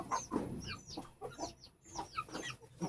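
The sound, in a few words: guinea fowl clucking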